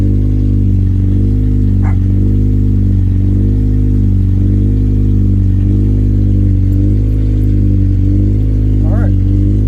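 A Honda Integra engine idles loudly and steadily with a deep, even rumble just after its first start-up following an OBD1 conversion, close by, with faint voices in the background.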